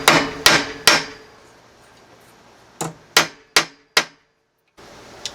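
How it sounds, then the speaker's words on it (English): A rock hammer strikes metal on a vise's anvil section, three sharp ringing blows, a pause, then four more in quick succession, loud and close, flattening starter solenoid contacts from a 1983 Toyota pickup. "I got a rock hammer, you know, like a rock hammer, and this vise has a little anvil section"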